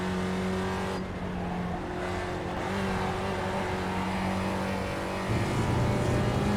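Spec Racer Ford race car engine in the iRacing sim drones steadily through a chicane at Lime Rock Park, loud and continuous, with a shift in pitch near the end and faint tire noise.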